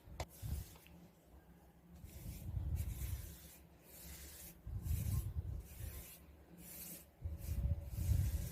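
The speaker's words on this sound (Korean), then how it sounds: "붓을 이용해서 칠해 줄게요." A paintbrush spreads paint over wooden furniture being refinished, producing soft, close bristle scrubbing in repeated strokes that swell and fade, quiet and alone.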